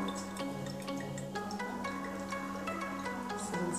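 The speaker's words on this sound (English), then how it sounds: "And then you pour the water out." Water drains from a hole in a normal-size coconut in a faint, continuous trickle with scattered small drips, close by and without speech.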